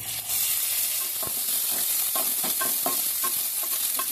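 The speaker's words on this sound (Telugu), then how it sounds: "ఇప్పుడు మనం కిస్మిస్ వేసేసుకుందాము. కిస్మిస్ కూడా వేయించుకోవాలండి." Cashews and raisins fry in hot ghee, a bright continuous sizzle broken by frequent scraping clicks as a spoon stirs them around the pan.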